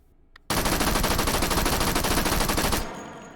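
A Thompson submachine gun in the H3VR virtual reality game fires .45 ACP fully automatic, a loud continuous burst of rapid shots lasting over two seconds after a brief click, then cutting off into a short ringing tail.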